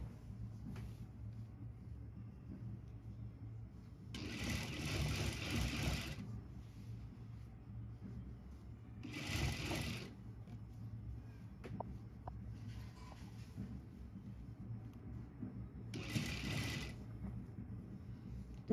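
Sewing machine stitching a koti (vest) collar, running in three separate bursts of a few seconds each with rapid whirring, and a steady low motor hum with quiet handling noises in the pauses between.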